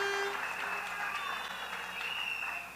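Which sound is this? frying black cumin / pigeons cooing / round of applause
round of applause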